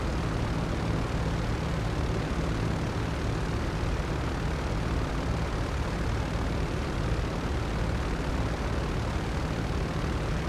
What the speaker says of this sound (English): Next up is the C-130J Hercules. Let's see where this takes us.